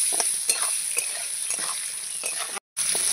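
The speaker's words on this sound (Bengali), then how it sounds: "আলুটা আমি এবার লাল লাল করে ভাজবো" Potatoes fry with salt and turmeric in a pan while being stirred, giving a steady close sizzle broken by regular scraping strokes, with a brief moment of complete silence near the end.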